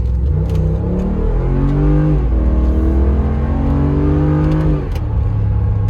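A 2014 Mercedes G550 with a 7-speed transmission pulls hard under spirited acceleration, its engine note rising through the revs, dipping at a gear change and climbing again, loud and continuous with no talking.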